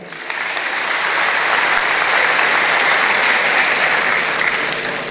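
Steady, loud audience applause fills a church revival meeting in Ranau, a dense wash of clapping that swells quickly and holds evenly for about five seconds.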